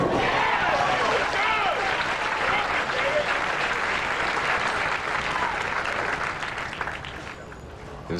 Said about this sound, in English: His cheering fans are having a field day